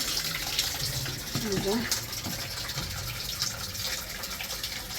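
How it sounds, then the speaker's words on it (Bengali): Gobindobhog rice and masoor dal being washed in water, a steady rush and slosh of running water throughout, with a brief faint voice partway through. "মা গোবিন্দভোগ চাল আর মুসুর ডাল ধুয়ে নিতেছে ভালো করে"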